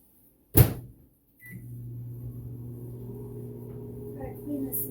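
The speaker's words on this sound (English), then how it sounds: "Gotta clean this microwave." Kitchen microwave oven running, a short clunk of the door or button, then a steady low hum that continues evenly to the end.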